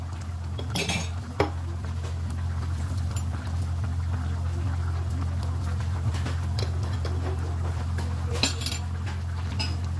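A spoon scrapes and clinks against a cooking pot while potatoes are stirred and mashed into a thickening broth, producing sporadic metallic taps over a low, steady hum.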